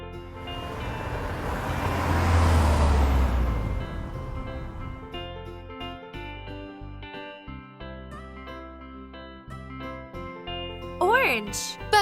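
An orange toy jeep, a loud rumbling motor that swells and then fades over several seconds, followed by quieter mechanical and musical tones with a short chirp near the end.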